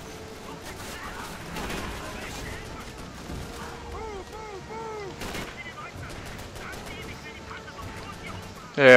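Gunfire from the Call of Duty 3 video game crackles steadily under a busy battle mix, with scattered shots and bursts, mid-level and somewhat masked, and a sudden loud hit at the end.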